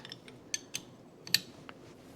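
Sharp metallic clicks and scrapes come as a John Deere 8450 tractor's mechanical fuel injector is screwed onto a test stand, several brief ticks spread irregularly over a couple of seconds, close and fairly quiet.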